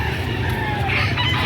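Roosters at a livestock auction crowing and clucking over a constant, loud crowd and yard din, the birds' calls blending into a busy, unbroken background.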